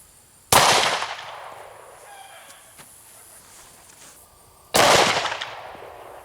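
Two loud, sharp gunshots from a 10mm pistol firing 180-grain hollow point rounds into a clay block, several seconds apart, each with a bright crack that trails off in a reverberant outdoor echo.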